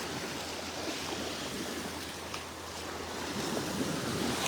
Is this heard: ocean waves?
yes